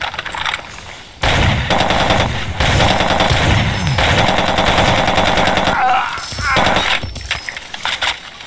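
Sustained automatic gunfire from weapons in the 2008 video game Far Cry 2, loud and dense bursts rattling almost continuously for several seconds after a brief quieter opening, with game sound effects layered in.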